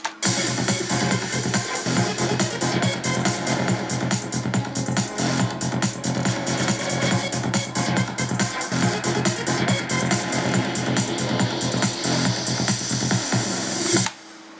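A driving progressive trance loop with a steady pounding kick and a rolling bass line under busy high-end percussion plays loud and continuous, then cuts off abruptly.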